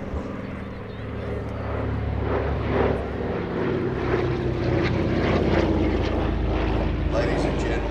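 A Douglas DC-3 Dakota propeller airliner makes a pass at the Midlands Air Festival 2023, its radial engines droning loud and steady as it sweeps by, with a voice talking over it.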